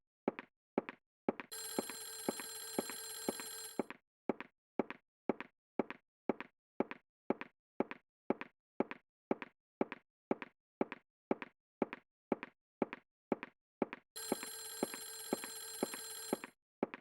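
In the horror game Clock Tower: The First Fear, an old-style telephone bell sounds in two long bursts. A steady, evenly spaced ticking runs between and under the bursts, with no voices.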